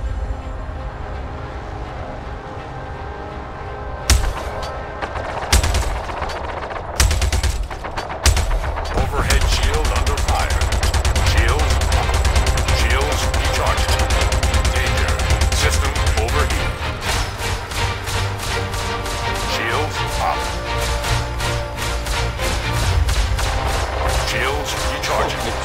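Spaceship weapons in Star Citizen, bursts of rapid staccato fire and heavy impacts over a loud rumbling engine drone, sustained across the scene with someone talking over it.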